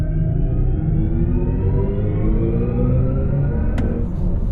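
BMW iX M60 electric SUV accelerating hard from a launch, a loud, steady synthetic drive tone that climbs gradually in pitch, heard from inside the cabin, with a brief sharp click near the end.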